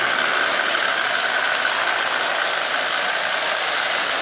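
A Marx 666 toy train engine runs at 60% power while smoking and pulling 20 Lionel cars, giving a loud, continuous whirring hum that stays steady throughout.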